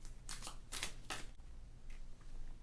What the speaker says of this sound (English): Shuffle them up real good.